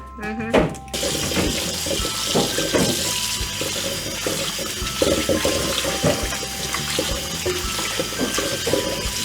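Tap water runs steadily into a kitchen sink as food is rinsed during taco preparation, a loud continuous hiss and splash with a brief clatter at the start.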